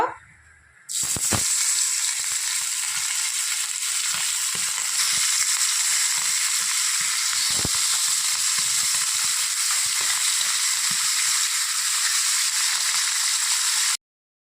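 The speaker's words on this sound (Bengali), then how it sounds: "তেলটা গরম হয়ে গেছে, এখন আমি মাছগুলো একটু ভেজে নেব।" Pomfret fish pieces dropped into hot white oil in a wok set off a loud, dense, continuous sizzle that holds steady for over ten seconds, close up, with no talk.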